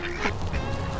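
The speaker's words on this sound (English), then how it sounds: "These ducks better not poop on my shoes." Ducks quack outdoors in a cluster of short, overlapping calls at moderate distance. A steady background hiss runs underneath, and no one speaks.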